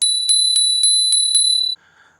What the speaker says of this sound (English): The scooter comes with a nice loud bell.